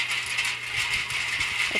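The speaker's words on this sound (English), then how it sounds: "Sorry about the noise with my wind turbine." A backyard wind turbine clatters and rattles mechanically in a garden, a steady busy ratcheting texture running throughout with faint bird-like chirps near the end; no one speaks.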